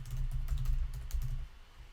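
Rapid, uneven clatter of keys on a computer keyboard as a website address is entered, fairly close and steady for a couple of seconds with no talking over it.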